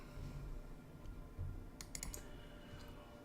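Computer mouse double-clicked to open a Photoshop file, heard as a quick pair of sharp, close clicks over steady low room hum and faint keyboard-like tapping.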